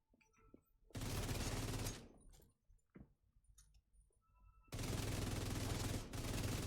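Two long bursts of rapid automatic rifle fire in The Division 2, each lasting about a second, loud and dense, separated by a quieter stretch of clicks and small impacts.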